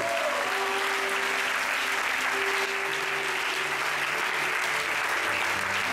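A church congregation applauds God during a French-language sermon, with sustained, dense clapping from many hands filling the room evenly throughout and a few faint tonal sounds beneath.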